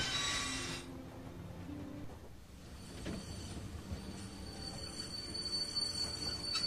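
A train rolls steadily in The Walking Dead game, a continuous rumble of wheels on rails with faint metallic squeals and a low mechanical drone throughout.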